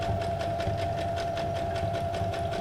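A sewing machine runs steadily close up, a fast rhythmic mechanical stitching with a constant motor hum throughout, heard alone.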